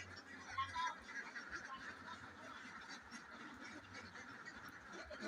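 Laying ducks in a pen quack faintly, with scattered calls over a low, steady background hum and a murmur of farmyard noise.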